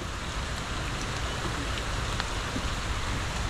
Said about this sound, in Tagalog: inaabot po kami ni Chichi ng ulan sa kalsada